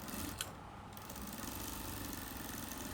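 A sewing machine stitches the front part of a blouse, giving a steady, continuous mechanical whir close by that barely changes over the three seconds.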